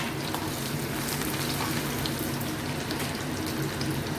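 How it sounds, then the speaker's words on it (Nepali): Ginger and garlic sizzle in hot oil in a pan, a steady, loud crackling fry with fine spattering pops and no pauses. "लु तेल खारियो फर्स्टमा अदुवा र लसुन"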